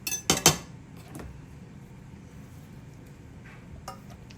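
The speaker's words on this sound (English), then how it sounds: "I have potatoes. I'm gonna mash them right now." Potatoes being mashed with butter in a pot: a quick cluster of sharp metallic clinks at the start, one or two softer knocks later, and quiet scraping in between.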